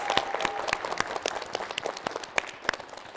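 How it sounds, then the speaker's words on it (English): Audience applause for a debate speaker: moderately loud, steady clapping from a small crowd, individual claps audible within the wash, with no talking over it. "Give her a round of applause."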